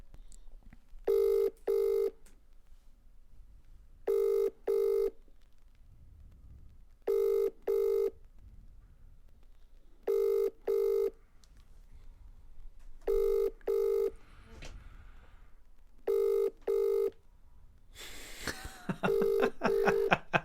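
Telephone rings repeatedly and goes unanswered, in regular double-burst pairs of ringing about every three seconds, ending with a brief burst of dialing tones; faint background noise between rings and no talk.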